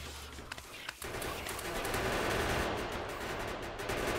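Turrets firing in Factorio on a desert deathworld, heard as a steady, rapid rattle of automatic gunfire that starts after a few sharp cracks and continues unbroken, fairly close and dense.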